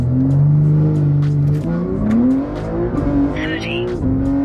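A Toyota Supra launches hard in first gear, its engine roaring loudly and climbing steadily in pitch with a brief tire chirp, heard close up under excited voices inside the car.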